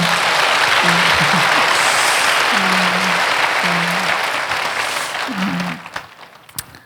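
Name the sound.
applause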